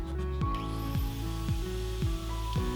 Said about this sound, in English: The angle grinder will come out at this point and just cut down your cut lines.